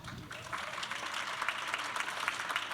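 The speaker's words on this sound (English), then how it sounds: "And we can give a round of applause." Audience applause for panelists at a women's leadership conference, a steady, moderately faint wash of clapping lasting a few seconds with no talk over it.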